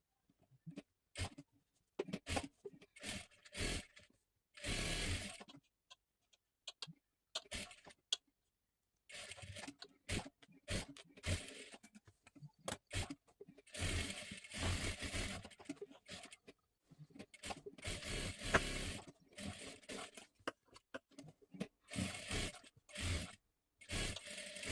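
A sewing machine stitches a small girl's blouse cut from leftover fabric, running in short bursts and longer continuous spells of rapid mechanical stitching, separated by quiet pauses.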